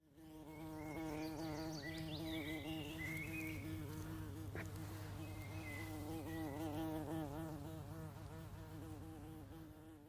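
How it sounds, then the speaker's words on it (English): Honeybee wings buzz in a steady, continuous drone that holds for about ten seconds, fairly close and alone with no talking. "that's why you hear that buzzing sound. It's the sound of their wings beating."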